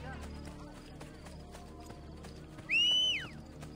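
A horse in the Assassin's Creed Brotherhood game gives a loud, sharp neigh near the end, rising and falling over about half a second, after a busy stretch of game ambience with faint hoofbeats underneath.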